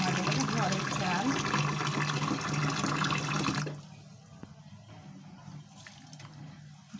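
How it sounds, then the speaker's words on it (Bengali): Home-grown rice is washed in water, with running and sloshing water close by for a few seconds, then it stops abruptly, leaving faint drips and light handling noises. "এখন আমি চালটা ধুয়ে নেব পরিষ্কার করে।"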